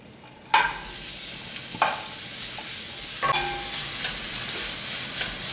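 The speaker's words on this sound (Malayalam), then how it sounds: "ആദ്യം ഒരു പാനിൽ എണ്ണ ചൂടാക്കി ഈ സവാള ഒന്ന് നമുക്ക് വഴറ്റിയെടുക്കാം." Onions sautéing in hot oil in a pan for a chicken curry, a loud sizzle bursting in as they hit the oil, then a continuous close hiss with a few stirring clanks.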